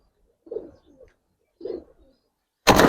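Two old-generation Giribaz pigeons at a loft in Old Dhaka coo twice, each a low, soft, close call about a second apart, followed by a short burst of broadband noise.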